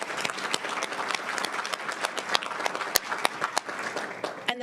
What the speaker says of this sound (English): we would still like to give her a nice round of applause